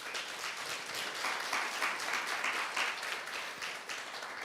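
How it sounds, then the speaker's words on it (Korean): An audience at a lecture applauds in a steady patter of many hands, fairly faint and even, rising slightly in the middle before trailing off, with no voices over it. "예, 박수 한번 쳐주세요."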